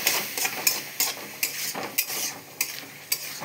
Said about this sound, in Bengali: একটু একটু করে নাড়াচাড়া করবে